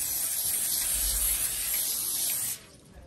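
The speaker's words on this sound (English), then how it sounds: "I need to spray it with some nonstick spray." Nonstick cooking spray sprayed onto a foil-lined pan, one continuous loud, close hiss lasting about two and a half seconds before cutting off, with no talking.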